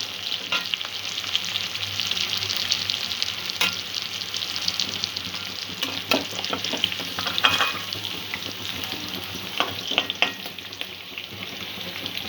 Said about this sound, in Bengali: পেঁয়াজ আর ক্যাপসিকামটা ভাজা হয়ে গেছে